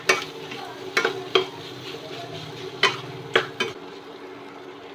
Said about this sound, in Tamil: ஜீரகம் மஞ்சள் நல்லா மிக்ஸ் பண்ணி விட்டுறலாம்.